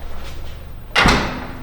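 An old elevator's manual door is shut in Belgrade, Serbia, giving one sharp, loud metallic bang after a quiet rattle, ringing briefly as it fades.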